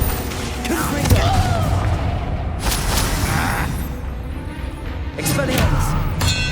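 Fiery Confringo blast spell cast in Hogwarts Legacy combat, heard as several loud booming bursts amid dense ongoing battle noise and effects.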